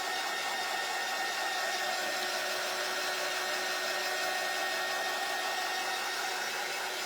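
A hair dryer blows steadily and alone, close up, drying fresh paint along a line on a wooden Christmas door hanger.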